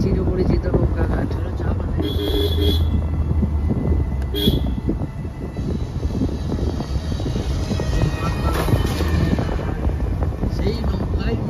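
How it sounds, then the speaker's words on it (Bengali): Strong wind blows at a village river boat ghat, buffeting the microphone in a steady roar over the water, with occasional faint voices in the background. "এই যে আমাদের এই চিরপরিচিত নৌকা ঘাট।"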